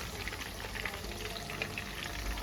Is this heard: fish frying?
yes